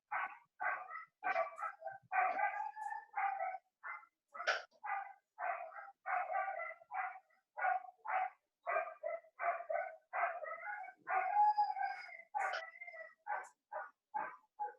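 A pack of dogs barks continuously in rapid, overlapping bursts with some howl-like yelps, steady and fairly close for the whole stretch, with no talking over it.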